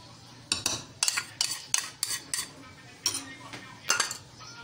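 A spoon mixing dahi bhalla with sweet chutney in a bowl, producing about ten sharp, close metallic clinks and scrapes at an uneven rhythm against quiet background.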